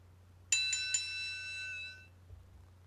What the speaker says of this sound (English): And the bell is rung.